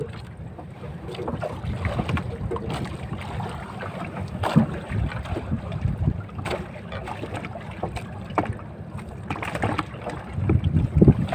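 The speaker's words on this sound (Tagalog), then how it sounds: "Malakas na ulit ang hangin." Strong wind buffets a small fishing boat out at sea, with a gusty, rushing roar and irregular thumps over a constant low rumble.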